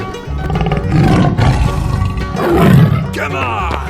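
A tiger roaring in a 3D animal slide video game, a loud, sustained growling roar over bright game music and sound effects, swelling twice within a few seconds.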